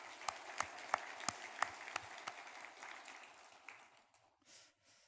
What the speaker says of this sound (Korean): 박수로 하나님 앞에 영광을 돌리겠습니다